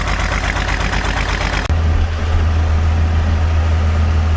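A John Deere 4430 tractor's heavy diesel engine, with 20,000 hours of use, idles after a cold start with a loud, steady low rumble; a sharp change partway through leaves a deeper, even drone.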